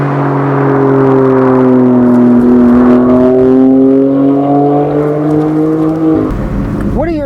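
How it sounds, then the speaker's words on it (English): A BMW M4 Competition F82 with a twin-turbo engine, heard from inside while driving: a loud, steady exhaust drone that climbs slowly in pitch as it pulls, then drops sharply near the end as revs fall. "Thoughts on the M4 exhaust with this twin turbo setup?"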